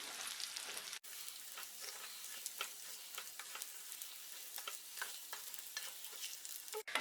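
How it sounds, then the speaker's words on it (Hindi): Plain rice for pulao is stirred and roasted in a pan over medium heat, giving a steady soft sizzle with gentle scraping strokes throughout and a brief knock near the start. "इस राइस को हम लगभग 2 से 3 मिनट तक मीडियम आंच पे भून के तैयार करेंगे"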